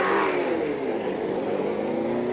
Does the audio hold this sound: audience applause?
no